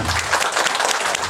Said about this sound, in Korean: 계시면 손뼉 한번 쳐주세요